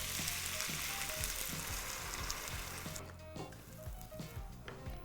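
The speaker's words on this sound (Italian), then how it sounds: "E comincio ad aggiungere il brodo." Broth poured into a hot pot of borlotti and cannellini beans with mushrooms, a close, steady sizzle and bubbling that softens partway through as the liquid settles.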